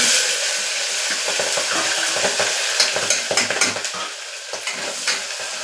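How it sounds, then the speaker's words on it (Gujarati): Spices and carajwain sizzle in hot oil in a pan for Kathiyawadi dhaba-style masala khichdi. A loud, steady frying hiss carries throughout, and a spoon scrapes and clinks against the pan in quick irregular strokes toward the end. "બધું બરાબર સોટી થઈ જાય એટલે આપણે એમાં મિક્સ શાક ઉમેરીશું."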